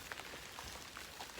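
Rain falls steadily in the woods of Missouri, a soft, even hiss with scattered drops pattering nearby, faint and unbroken by any voice.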